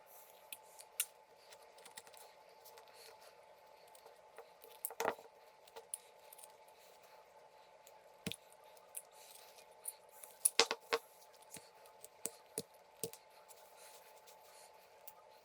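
A knife makes a stop cut in carved wood while whittling a small pig figure, producing faint, sparse, crisp snicks and clicks spread out over near-silence.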